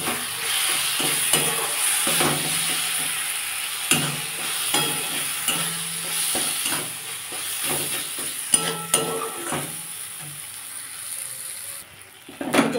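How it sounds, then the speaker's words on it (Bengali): A spice paste with turmeric and chili powder sizzles in a pan for a fish curry and is stirred steadily, the scraping strokes regular and close over a constant frying hiss. "হাফ চামচ লঙ্কার গুঁড়ো একটু দিলাম, দিয়ে এটাকে আমি ভালো করে কষবো।"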